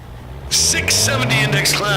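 A Peterbilt diesel semi truck engine drones low as it rolls through the beams at a drag strip during a diesel event, with loud track noise and an announcer talking over it.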